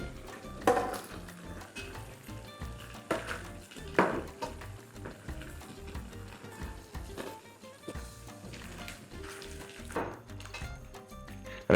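A spoon stirs sautéed pechay and boiled eggs in sauce in a pan, giving soft, irregular scrapes and light metallic clinks spaced every second or so at close range.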